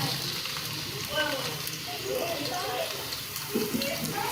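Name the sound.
onions added to hot ghee, sizzling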